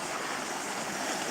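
Black Sea surf washing onto the Crimean coast, a steady broadband wash of waves rolling in continuously, fairly close, with no talk over it.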